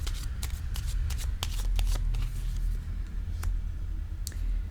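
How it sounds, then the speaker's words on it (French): Tarot cards handled on a table, a series of sharp papery clicks and slaps with a few louder card taps, close up over a low background hum. "Je vais déposer une autre carte ici"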